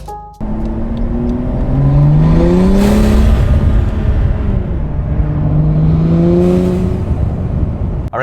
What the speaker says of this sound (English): we're gonna see how the car sounds